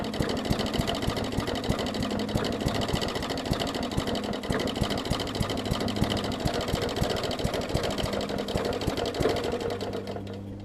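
A flooded Briggs OHV engine on a basic Bolens push mower, fitted with the wrong spark plug and no jet plug, sputtering and chugging in a fast, rough, uneven rhythm, loud and close throughout.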